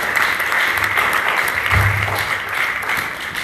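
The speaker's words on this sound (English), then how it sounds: "Clap your hands." Hands clap together across a church congregation at a Sunday morning worship service, a loud, continuous patter of many people lasting a few seconds, with a low hum running underneath.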